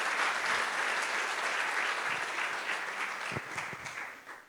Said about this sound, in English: round of applause at least